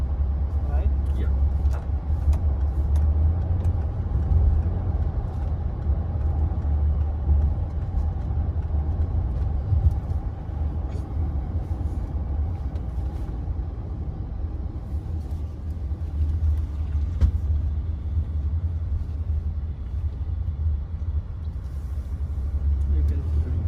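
A Volkswagen Touareg 3.0-litre V6 turbo petrol SUV on a test drive in Qatar, heard from inside as a steady low engine and road rumble, with people talking in the cabin.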